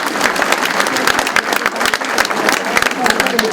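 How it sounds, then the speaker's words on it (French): An audience at a 35th-anniversary gathering claps for the slideshow technician, a dense burst of hand claps with a voice speaking over it. "Une main d'applaudissement, s'il vous plaît,"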